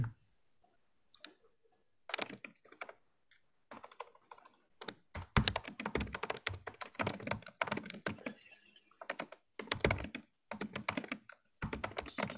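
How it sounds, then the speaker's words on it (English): Rapid typing on a computer keyboard during a weekly online community call, with irregular bursts of close key clicks separated by brief pauses, heard alone without talk. "While Matt's typing"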